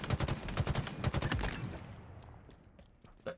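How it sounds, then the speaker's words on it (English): Gunfire in a Halo multiplayer match, a fast rapid string of sharp shots for about a second and a half, then fading to a low rumble with one more late shot, loud and without talk. "The battle of snipers."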